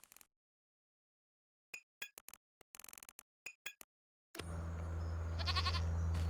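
Goats in the Farming Simulator 25 game bleat in a rapid string of short, clear calls separated by silence, followed by a steady low hum of the game's ambience.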